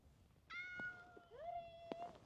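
A cat gives two clear, close meows on a mountain hike on an Arctic island, with a rising second call and faint background sounds and no talking.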